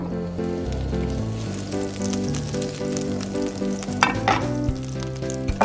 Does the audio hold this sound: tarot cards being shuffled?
no